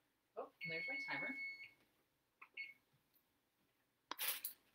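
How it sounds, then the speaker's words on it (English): In a home kitchen during baking, a timer goes off with a steady high-pitched electronic tone lasting about a second. Scattered voice sounds and brief clatter follow. "Oh, and there's my timer."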